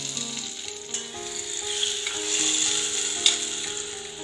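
A small tomato sautés in oil in a kadai with a steady, close sizzle. Light clinks and scraping from stirring mark the sizzle. No one speaks.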